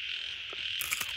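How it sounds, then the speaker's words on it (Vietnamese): Frogs croaking near an apple orchard in the hills of Luc Ngan, Bac Giang, a dense steady chorus under a couple of closer, sharper croaks, moderately faint in the outdoor air. "Tiếng ếch nhái càng lên trên này thì càng đấy."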